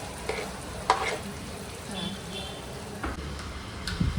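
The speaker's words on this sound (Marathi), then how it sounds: "तर टमाटर पण यात टाकत आहोत." Tomatoes are added to a kadhai of chicken masala and stirred, making a soft steady sizzle with scattered scraping and clinking stirring sounds, close and moderately quiet, with faint voices in the background.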